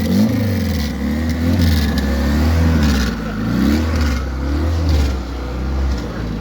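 A modified Honda car with over 500 horsepower revs steadily, a low droning engine note swelling and easing in slow waves, close and loud with no talk over it.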